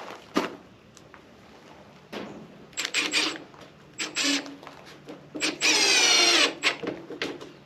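A power driver sinks GRK trim head screws into a hand-crafted distressed wood beam in a vaulted ceiling, with several short whirring bursts and one longer run, each followed by faint clicks, close up with no talking.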